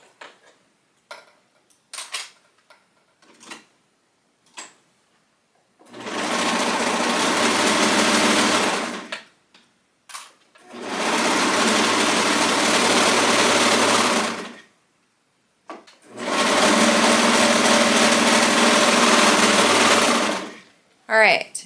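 A serger stitching fabric runs in three steady whirring bursts of several seconds each, separated by brief pauses filled with small clicks and handling noises, loud and close with no voices.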